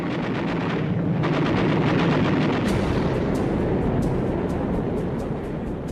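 Gunfire during a WWII aircraft carrier battle in archival footage, a loud rumbling barrage of booms and sharp repeated cracks, dense at first and then spaced into rapid bursts, no voices.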